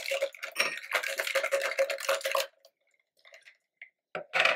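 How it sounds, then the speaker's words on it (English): Cocktail shaken hard in a metal shaker with ice, a dense rapid rattle lasting a couple of seconds, then quiet with small clinks and a splash as it is poured over ice into a glass. "We're gonna shake her up, and then we're going to pour it over ice into our glass"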